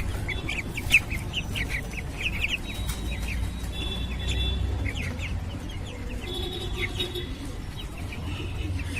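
Chickens and ducks kept together in a coop, Fayoumi, baladi and Sasso hens among them, cluck and chirp steadily with scattered squawks and quacks at close range, no one speaking.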